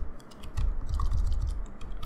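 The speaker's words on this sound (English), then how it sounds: "the process of doing that is by typing in php space" Quick clicking keystrokes on a computer keyboard while a Laravel command is typed in Windows, a close, rapid irregular run of taps heard alone.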